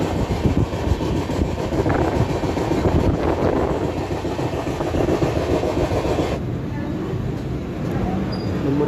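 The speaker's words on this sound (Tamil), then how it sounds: "மூணு நிமிஷம் ஆல்ட்டுக்கு அப்புறம் நம்ம வண்டி கிளம்பியாச்சு" Train 22902, the UDZ BDTS SF Express, pulls away after a three-minute halt, its steady rolling rumble and rail clatter heard from inside a crowded coach, with the noise dropping slightly partway through.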